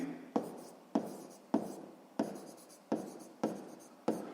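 Pen strokes on paper while working a sixth-grade maths exercise, seven distinct scratching strokes in a steady rhythm, each a sharp onset fading quickly, close and quiet.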